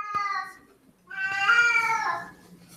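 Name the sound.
cat caterwauling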